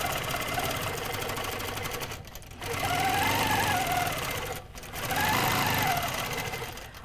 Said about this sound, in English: I'm going to do a little tacking stitch.